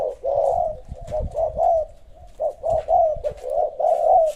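A zebra dove coos repeatedly in a steady series of low, hollow calls, close and clear with no talking.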